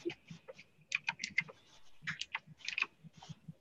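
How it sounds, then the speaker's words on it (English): Rapid clacky typing on a loud mechanical computer keyboard, a quick irregular run of close, crisp keystrokes with brief pauses and no talk. "I know my keyboard is very loud."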